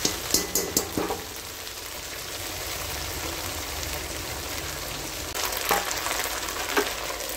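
Prawns fry in hot oil with a steady, close crackle, and a few sharp scrapes of stirring come at the start and again near the end.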